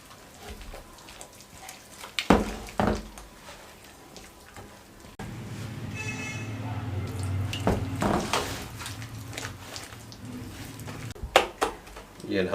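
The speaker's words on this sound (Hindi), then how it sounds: "पानी डालेंगे और इसको मिक्स करते रहेंगे इस तरीके से" Water is poured into a batter and stirred with a wet, splashy, liquid pour that starts partway through and goes on steadily under scattered clinks and handling noises.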